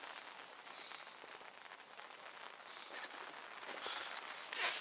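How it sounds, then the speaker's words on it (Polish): Light rain falls outdoors beside water on a fishing outing, a soft, steady hiss of drops pattering on surfaces at low volume, with a faint brush of movement near the end. "Zapowiadali deszcz i jest deszcz."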